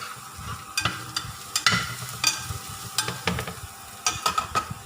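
Garlic frying in oil in a pan, with a steady close sizzle broken by repeated scraping and stirring clatters throughout, and no voices.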